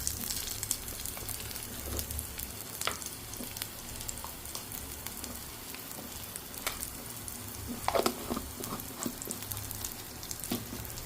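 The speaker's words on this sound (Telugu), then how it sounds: "ఈ పల్లీలు కూడా కొంచెం వేగాలన్నమాట సో ఈ పల్లీలు కూడా వేగిపోయాయి కదా" Peanuts fry in hot oil for semiya pulihora, a close, steady crackling sizzle with occasional sharper pops and light stirring.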